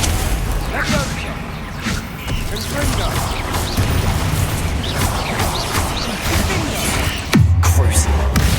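Spell blasts from the Confringo fire curse in the game Hogwarts Legacy, a steady stream of whooshing, crackling impacts layered with battle noise, and a deep rumbling boom near the end.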